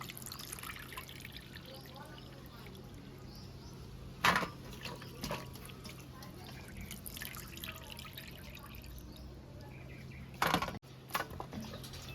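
Water trickles and drips while bone-in chicken pieces are washed by hand, faint and close, with a couple of louder splashes standing out from the quiet flow.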